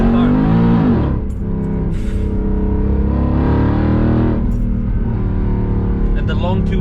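A Weistec stage 3 supercharged Mercedes CLK 63 AMG Black Series with long tube headers and a built gearbox drones loudly and close, its engine note rising and falling with revs while a voice talks over it.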